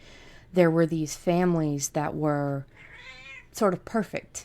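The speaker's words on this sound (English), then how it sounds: "Sorry for my cat, folks." A cat meows a few times indoors, its cries blending with a person speaking nearby, close and fairly loud.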